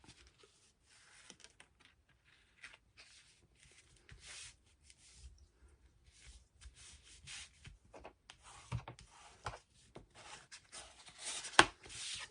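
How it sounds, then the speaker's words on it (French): A paper card is rubbed down by hand to press the glue onto its gluing tabs, making soft, quiet, uneven friction strokes that grow a little louder toward the end, with no talking. "Je viens maroufler pour que la colle, elle prenne bien."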